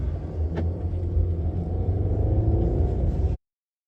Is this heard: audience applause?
no